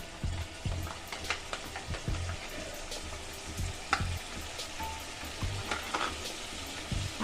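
Chicken coated in ginger, garlic and chili paste fries in a pan for Chicken Changezi, a steady close sizzle broken by regular scraping stirs.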